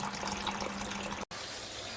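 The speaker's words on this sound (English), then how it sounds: "I'm putting cold pipe water on it" Cold tap water pours over freshly cooked food in a home kitchen during Jamaican-style cooking, a steady, soft rushing splash that runs on and briefly cuts out before resuming.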